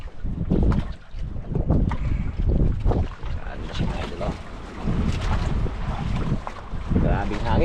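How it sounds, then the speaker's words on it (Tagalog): Strong wind gusts roar across the microphone out on the water aboard a small boat, a loud, constant rumbling buffet with surging peaks and some splashing beneath. "Grabing hangin, naglakas, mas lalong naglakas yun."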